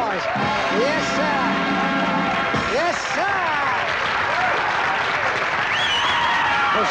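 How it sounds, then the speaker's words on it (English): Applause and crowd noise at a fraternity pageant-style event introducing a Miss Baked Beans contestant, steady clapping throughout with whistles and cheering voices over it. "A nice round of applause."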